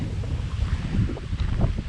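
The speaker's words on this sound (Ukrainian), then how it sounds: "Дуже сильні пориви вітру, метрів 12 секунду." Strong gusty wind buffeting the microphone outdoors on a dam by the water while fishing, a loud continuous low rumble with surging gusts and no talk.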